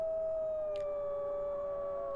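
Distant dogs howling in a long, sustained wavering tone that drifts slowly, faint and far off over a quiet background, with no voices.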